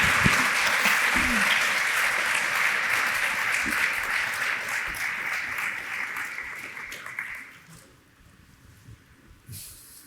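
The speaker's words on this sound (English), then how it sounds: "let's clap for them" An audience at a live pitch event claps steadily and loudly for judges and finalists on stage, the applause fading out after several seconds into near quiet.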